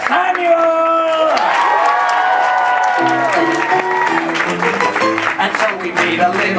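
A Disneyland Fantasy Faire audience at the Tangled show claps and cheers for Sir Samuel, a sustained crowd roar beneath voices and musical tones.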